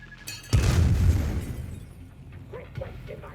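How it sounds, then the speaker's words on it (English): A bomb goes off in the video game Dying Light 2, one loud low boom that rolls on and fades over a couple of seconds, followed by quieter game sounds. "Bomb's way!"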